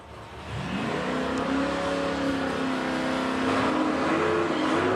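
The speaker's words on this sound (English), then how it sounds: "Elton Hagen turns the wind light on behind the wheel of that 72 Mustang." A 1972 Ford Mustang race car at a drag strip accelerates hard, its engine note rising steadily and loudly as it pulls away, sustained near and strong for several seconds.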